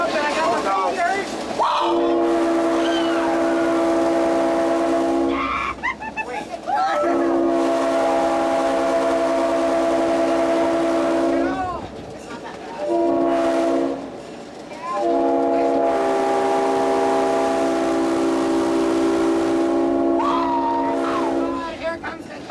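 A heritage railroad train sounds its horn in long sustained blasts, several separated by short gaps, loud and close over a steady rumble, with brief talk between blasts.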